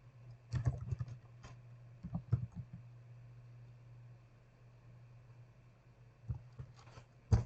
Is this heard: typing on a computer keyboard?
yes